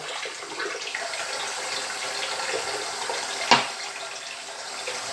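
Warm water runs from a kitchen tap while cheesecake is being made, a steady close hiss of flowing water with a brief clink partway through.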